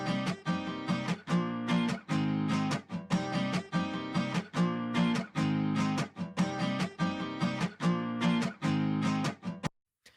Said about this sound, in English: he took the lead and quickly laid down this acoustic guitar part that in isolation sounds like this